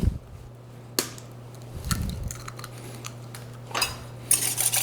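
Eggs are cracked against a bowl during a cooking demo, giving sharp close taps and shell cracks followed by gentle clinks of the bowl, spaced across a few seconds with a low steady hum beneath and no voices.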